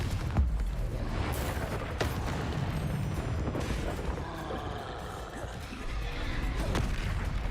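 Spells such as Confringo cast during combat in Hogwarts Legacy: a rumbling, bassy wash of magical blasts and booming impacts with sharp cracks scattered throughout, sustained and fairly loud.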